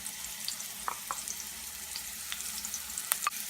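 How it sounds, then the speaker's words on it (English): White onion and Scotch bonnet pepper sautéing with seasoning in a pan, a soft steady sizzle with a few light clinks of a utensil, close and fairly quiet, no talking. "saute all my seasoning together, going in with my white onion"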